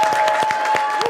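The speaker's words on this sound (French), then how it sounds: "Veuillez applaudir Brad Pitt.jpg." A short burst of audience applause on a live French game show, steady clapping with a faint tone running beneath it.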